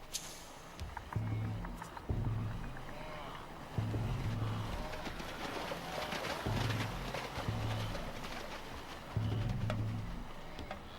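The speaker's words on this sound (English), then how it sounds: "Wildebeest were created for this crossing." A wildebeest herd crosses a river, with splashing water and a low, rumbling mass of hooves and bodies, in distant, moderately faint bursts that rise and fall every few seconds.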